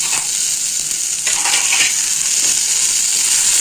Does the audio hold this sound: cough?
no